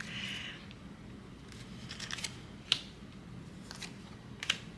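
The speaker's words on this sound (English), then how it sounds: "Let's deal out these cards." Lenormand cards dealt out onto a surface give crisp, scattered snapping and flicking sounds, a handful of sharp taps and slides spaced irregularly, close and fairly quiet with no talk.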